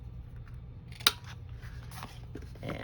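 Scissors snip once sharply to round the corner of a paper tag, followed by a few soft rustles and handling sounds in a quiet room.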